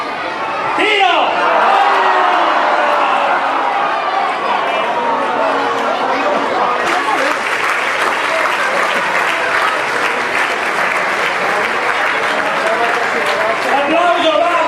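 Crowd applause fills the stands at the close of a football match between national teams, steady and dense for the whole stretch with a brief burst of cheering and some chatter mixed in.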